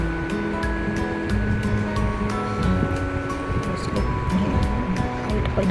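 Potato French fries fry in hot oil in a kadai, giving a steady, close sizzling hiss with faint tonal sounds in the background.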